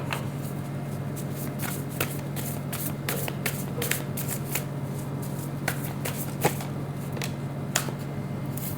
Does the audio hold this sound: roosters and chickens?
no